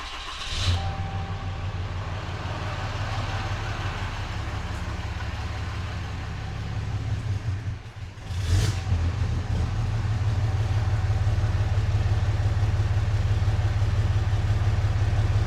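A Cummins diesel truck engine with failed injectors runs at a steady idle, its deep rumble continuous and close throughout, with a brief dip and surge partway through as it catches and settles into a louder, even idle.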